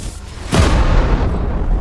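An asteroid impact explosion hits suddenly as a deep, loud boom, then rolls on as a sustained heavy roar and rumble that stays full to the end.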